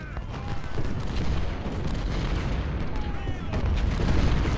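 Civil War artillery and musketry in a Total War-style battle game rumble as a dense, continuous roar of distant booms and volleys, steady and loud throughout with a few sharper reports rising above the din.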